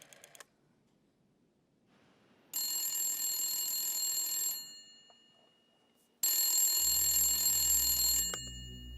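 An old telephone rings at a switchboard in a Cyprus period drama: two long, loud bell rings separated by a pause, with a low hum rising at the end.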